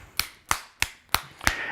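Cupped-hand clapping percussion on the body as a massage technique, five sharp, close slaps at a fairly even rhythm, heard alone.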